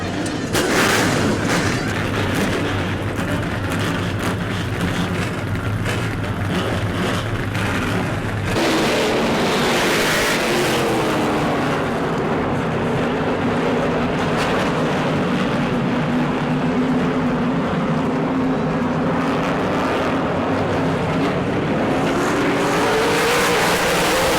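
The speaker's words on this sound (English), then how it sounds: "Driver, start your engines!" Super Late Model race car engines roar continuously at high revs at Auburndale, a dense loud drone that shifts pitch as cars accelerate past.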